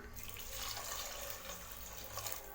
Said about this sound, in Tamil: இப்போது இதில் 1 கப்பு போல் தண்ணி ஆட் பண்ணிக்கலாம்.